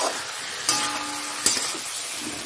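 Onions sautéing in a pan for a rohu fish curry with soya chunks, a steady low sizzle with two brief sharp clatters of stirring, no voices.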